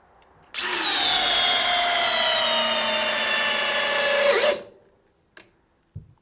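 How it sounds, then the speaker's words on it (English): A DeWalt DCD778 hammer drill drives an 8-inch fastener in one long, loud, steady whine of about four seconds, its pitch sagging slightly under load before it stops abruptly, followed by a few faint knocks. "Finally, the 778 will drop in our final 8-inch fastener."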